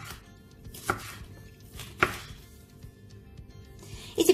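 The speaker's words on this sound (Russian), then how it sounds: "И болгарский перец я также буду нарезать тонкой соломкой." A knife slices a bell pepper into thin strips on a cutting board, three sharp cuts spaced about a second apart, then a quick double chop at the end, close and fairly quiet.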